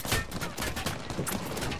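Rapid bursts of gunfire from Apex Legends, dense overlapping shots in quick rhythmic volleys, loud and close throughout the short stretch.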